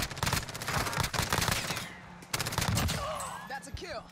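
Rapid automatic gunfire in Call of Duty Warzone on the Caldera map: dense, loud bursts of shots pound in quick succession, break briefly, then resume, with a faint voice near the end.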